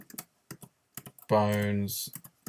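Fingers tapping a computer keyboard in short, scattered bursts of clicks, with a brief sustained electronic tone in the middle.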